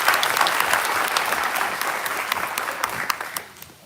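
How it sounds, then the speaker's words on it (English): A round of applause for a sheriff's office wellness team at a community briefing, brisk clapping from a modest crowd that tapers off with a few last claps. "Give them another round of applause"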